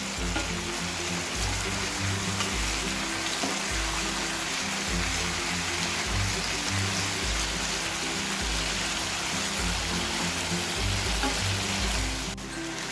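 Chicken malai tikka pieces fry in a pan with a loud, continuous sizzle and crackle, close and steady throughout, with no talking.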